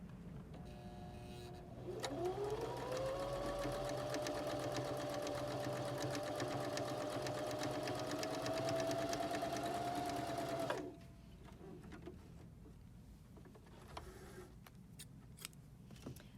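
A Baby Lock Zeal sewing machine stitching a blind hem, its motor whirring up and running steadily for about nine seconds before stopping abruptly, followed by quiet handling noises.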